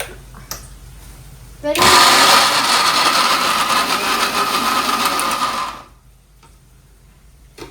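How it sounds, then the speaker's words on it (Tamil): A kitchen mixer grinder blending three tomatoes for a fish curry switches on abruptly, whirs loudly and steadily for about four seconds, then cuts off into quiet room noise. "இது வந்து குழம்புக்கு ஒரு 3 தக்காளி அரைச்சிக்கலாம்."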